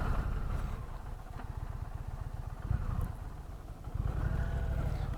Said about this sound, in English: Now the engine's really smooth.